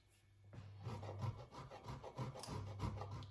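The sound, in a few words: grating fresh Parmesan cheese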